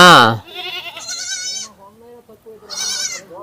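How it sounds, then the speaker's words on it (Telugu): Goat kids bleating loudly and close by on a village farm, several wavering cries, one right at the start and another near the end, with a quieter call between them. "ఇది వచ్చేసి మనకి మొత్తం మూడు మేక పిల్లలు అనేది ఇప్పుడు ఇక్కడ ఉంది"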